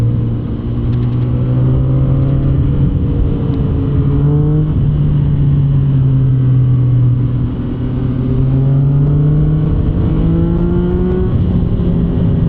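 Triumph Speed Triple 1200 RX motorcycle engine on a ride in third gear at quarter throttle, a loud, steady close-up drone with pitch rising and falling gently as revs shift, continuous throughout.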